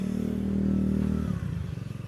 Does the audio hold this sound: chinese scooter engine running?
yes